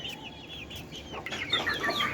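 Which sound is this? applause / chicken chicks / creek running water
chicken chicks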